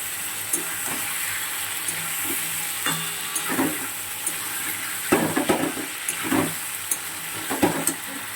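Cumin and ginger paste frying in a hot pan, a steady bright sizzle with occasional stirring scrapes and clinks that become more frequent toward the end, no voices.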